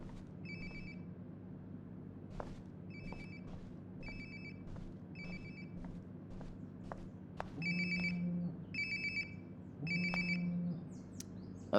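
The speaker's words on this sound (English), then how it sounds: "Sounds like my phone is definitely nearby." A mobile phone rings nearby in the video game Life Is Strange: Before the Storm, with a repeating electronic ringtone of short bright bursts over a low ambient hum and scattered faint footsteps.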